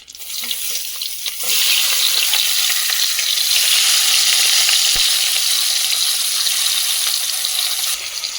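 A marinated spice mix goes into hot oil in a karahi and bursts into a loud, close, hissing sizzle that holds steady for several seconds after a brief quieter start.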